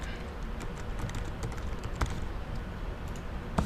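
Typing on a computer keyboard, a quick run of soft, close key clicks with a couple of louder taps standing out.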